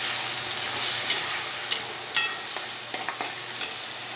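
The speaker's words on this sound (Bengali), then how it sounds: "এই যে পটল বাটাটা এবার আমি দিয়ে দিচ্ছি এবার এটাকে ভালো করে ভেজে নেব গ্যাসটা বেশি দিয়ে দিলাম" Pointed gourd paste with cumin tempering fries over a high gas flame, a bright continuous sizzle punctuated by several crisp spatula scrapes and taps at irregular intervals, close and loud, no voices.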